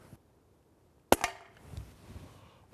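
A single sharp shot from an FAS 6004 air pistol, loud and close, with a quick metallic ring from the struck tin, then quiet shuffling noise.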